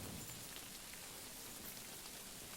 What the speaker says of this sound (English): Raining a lot.